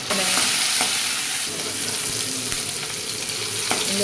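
Potatoes for a kurma sautéing in a pan, giving a steady close sizzle and frying hiss with occasional stirring scrapes and clicks throughout, no voices.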